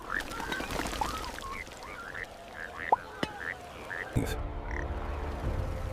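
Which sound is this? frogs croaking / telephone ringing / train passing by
frogs croaking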